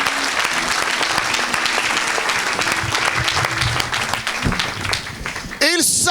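A large audience applauds and cheers loudly in a continuous wash of clapping at an evangelical gathering, with a voice breaking through near the end.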